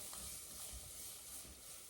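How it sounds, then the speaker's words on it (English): A paste sizzles gently in a pan on low heat, a very quiet continuous hiss and crackle with faint stirring. "it just means that it's slightly sizzling and it's not going to burn"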